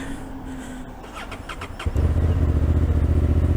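A Honda CB750 Hornet motorcycle engine is started: brief starter cranking, then the engine catches and settles into a loud, steady, pulsing idle close by.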